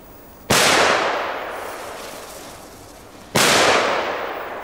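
Two loud, nearby depth bomb firecrackers go off about three seconds apart outdoors in Belgium, each a sudden sharp blast followed by a long fading roar and rumble.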